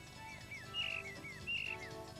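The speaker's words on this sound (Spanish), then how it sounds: "sus pájaros, pinzones, cojugadas, carboneros, herrerillos y tantos otros componen una continua y acompasada sinfonía de trinos" Songbirds such as finches, woodlarks, great tits and blue tits sing in the Sierra Espuña woods, with bright repeated chirps and trills over a soft, steady background.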